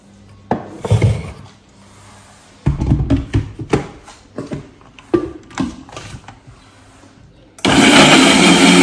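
A blender grinds spices for Ghanaian duck (dabodabo) light soup in several short, loud bursts with pauses between, then runs in one sustained roar at the end.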